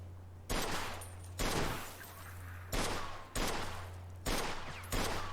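Gunfire at an old car wreck in Mafia 2, six loud evenly spaced shots each ringing out with a short echoing tail over a steady low hum, with no talk.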